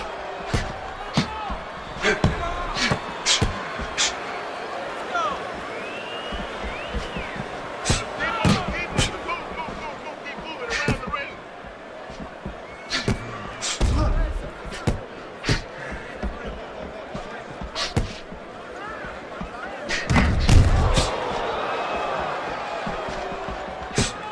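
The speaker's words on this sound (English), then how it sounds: "Well done that time, landing the counter punch." Punches landing in a professional heavyweight boxing bout, sharp slapping thuds scattered irregularly across a crowd-filled arena murmur, with a commentator speaking throughout and a couple of heavier impacts standing out.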